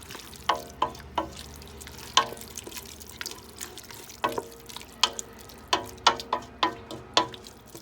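Beef stew bubbles in a pot on the stove, with soft steady simmering beneath a series of wet plopping pops and stirring clinks at uneven intervals, close and fairly quiet.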